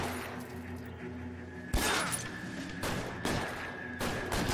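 Gunfire in the L.A. Noire video game, a few sharp shots spaced apart, the first loudest, cracking over a steady musical background.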